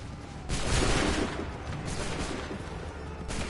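In the video game Assassin's Creed III, a massed musket volley erupts in one loud, crackling burst, then rolls away into a rumbling tail before a smaller shot sounds near the end.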